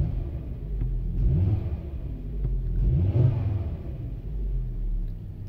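A car engine idles just after being started, a low steady rumble close by with slight rises in revs at a few points.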